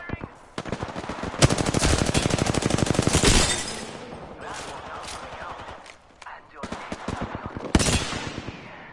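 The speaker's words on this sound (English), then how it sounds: "Somebody using an energy weapon?" Rapid automatic energy-weapon fire in a squad-based shooter game, loud bursts crackling fast then pausing, returning in shorter volleys near the end, with game sounds between.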